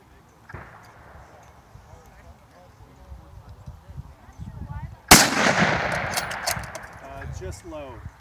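Rifle fire aimed at a 5-inch steel plate 330 yards away, with a single sharp loud report near the middle followed by a long decaying roar, after faint outdoor background and talk.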